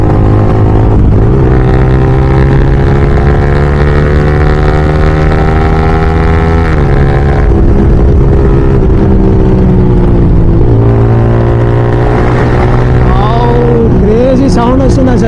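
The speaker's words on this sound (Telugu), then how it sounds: "చలో బైక్ని అయితే గట్టిగా పుల్ చేసాము" A motorcycle fitted with an aftermarket exhaust is pulled hard, its engine droning loud and close with steady harmonic tone that dips and climbs through gear changes, ending in a rising rev near the finish, alone without talk.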